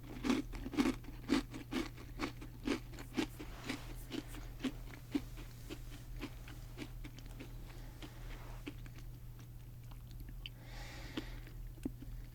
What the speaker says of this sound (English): And this is a lot more crunchy than I expected it to be.